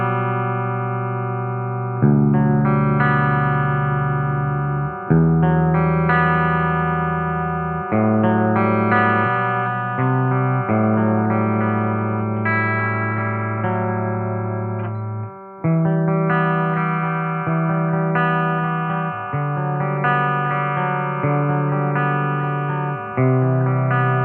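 Electric guitar played through a PRS Archon 50-watt amp head, Version 2 from 2021, with volume and bass turned up a little; chimey sustained chords and notes ring out continuously, loud and close with a touch of reverb, and no talking.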